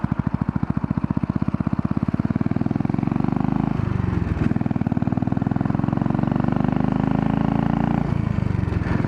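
Royal Enfield motorcycle riding through downtown streets, its thumping single-cylinder engine steady and close, with pitch rising and dropping as the bike shifts gears, wind and road noise beneath.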